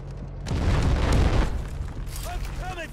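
Heavy booms of incoming artillery rumble through in the Delta Force video game, a loud sustained blast lasting about a second, followed by fainter impacts and game effects.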